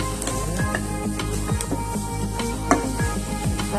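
Pepper, nutmeg, ginger and garlic powder sizzling in a pan for a Ghana meat pie filling, a close, steady frying hiss broken by stirring scrapes and light clatter.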